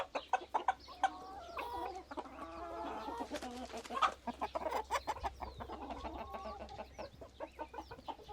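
Chickens and roosters cluck and call in a busy, overlapping chorus at close range, with sharp repeated clucks and short squawks throughout, and no talking.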